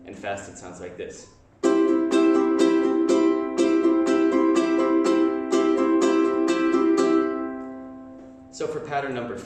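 A ukulele is strummed fast in a quick down-up pattern, bright and close, sustaining for several seconds after a short spoken lead-in, with a voice returning at the end.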